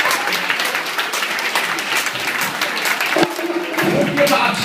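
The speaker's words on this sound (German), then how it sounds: "Nochmal einen letzten Applaus." An audience applauds at a school premiere party opening at a Dom Gymnasium, with steady clapping throughout and a voice or tone entering near the end.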